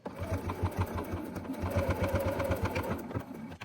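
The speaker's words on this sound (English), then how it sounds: "I like to do about 3 to 5 stitches past that beginning point and then back stitch to secure it" A sewing machine stitching a four-patch fabric coaster, with a steady, fast mechanical whir and rapid needle clatter running continuously at close range, including a few stitches past the start and a backstitch, with no voices.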